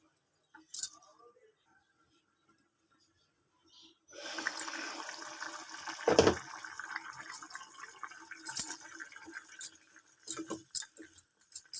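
A pot of mixed vegetable curry boils on the stove. After a quiet start, a steady bubbling hiss begins, with one sharp clatter in the middle and soft crackles near the end.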